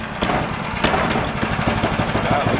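A brand new small engine fires up on a CVT test stand while it is barely clamped down. It settles into a steady, loud, close putter with a few sharp pops near the start.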